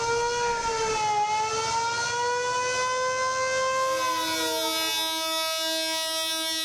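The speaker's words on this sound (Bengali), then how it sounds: "লঞ্চ ট্রেনের হুইসেল বেজে উঠতেই যাত্রীদের মাঝে ছড়িয়ে পড়ে আনন্দ উচ্ছ্বাস।" Launch and train whistles sound at a crowded terminal during the Eid homeward rush, long loud tonal blasts that overlap and shift pitch before one steady horn note carries on alone.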